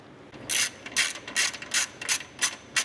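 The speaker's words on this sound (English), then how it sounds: "I will go ahead and remove the 10 millimeter bolt holding this bracket onto the strut tower" Ratchet wrench clicking in quick bursts as a 10 mm bolt holding a bracket to the strut tower of a 2013+ Subaru BRZ / Toyota GR86 is loosened, about eight crisp close ratcheting strokes with brief pauses.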